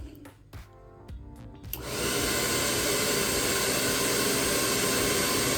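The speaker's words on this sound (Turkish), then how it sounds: "saç kurutma makinamı yani fön makinamı çalıştıracağım" A hair dryer powered through a 12V 6000W pure sine wave inverter switches on after a couple of seconds of quiet clicks and runs steadily with a loud, continuous rushing whoosh.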